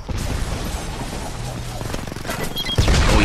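Bursts of gunfire and explosive crashes from the shooter video game Homefront pile into a dense, chaotic battle din, with a heavier blast near the end and a commentator's voice talking over it.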